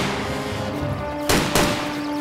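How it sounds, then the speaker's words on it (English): Covering fire in Men of War 2, two sharp close shots cracking over a steady humming battlefield background with no voices. "Cover fire, now!"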